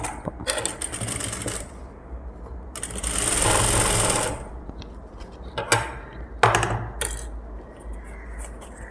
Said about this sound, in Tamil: வச்சுட்டு ஒரு படிமான தையல் போட போகிறோம் நம்ம